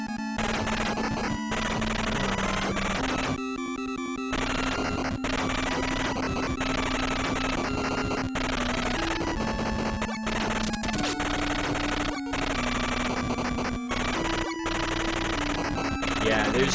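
Chiptune soundtrack from the NES game Gun.Smoke plays continuously, a steady square-wave melody over a bass line with a brief dropout near four seconds, loud and without talk.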